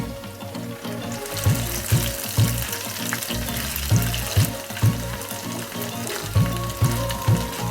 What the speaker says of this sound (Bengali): এবার পনিরটাকে লাল করে ভেজে তুলে নিন।